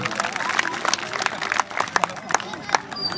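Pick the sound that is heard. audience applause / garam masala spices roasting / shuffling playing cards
audience applause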